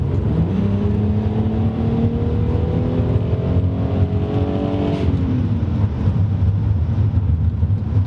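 A Lexus SC300 engine pulls hard under full throttle, its rising harmonic drone climbing steadily for several seconds before easing off, loud and continuous throughout.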